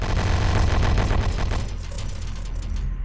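Gunfire in the video game Horus Heresy: Betrayal at Calth: a loud, rapid burst of rattling shots that tapers off into a low rumble and fades over about three seconds.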